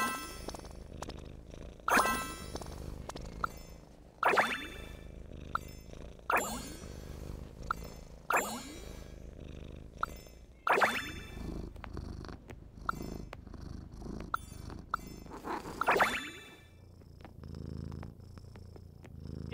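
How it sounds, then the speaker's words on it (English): A house cat purrs softly and steadily at low volume, broken by sharp metallic clinks and dings and occasional light rustling. "The purring is so cool."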